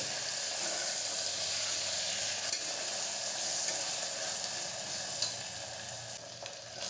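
Ingredients for soya biryani fry in a pan: a dense, continuous sizzle close up and fairly even in loudness, with faint scraping and no speech.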